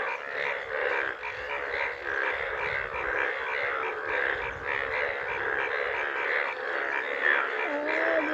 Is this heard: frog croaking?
yes